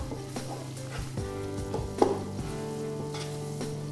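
Onions fry in a pan with a constant close sizzle, while a utensil scrapes and stirs in irregular strokes and one sharper clack sounds midway; no one talks.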